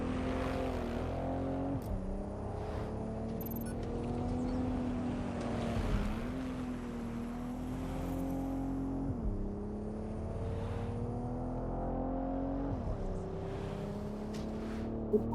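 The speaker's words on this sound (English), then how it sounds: "The car kind of reminds me of a Dodge" A car driving in the video game Watch Dogs Legion, with a steady engine drone that climbs and drops through repeated gear shifts every few seconds, continuous and close, with no talking.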